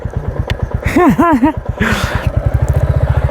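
A motorcycle engine runs close by as the bike is parked, its low rapid putter idling, briefly revving with a rising whine in the middle, then settling back to a quicker even chug.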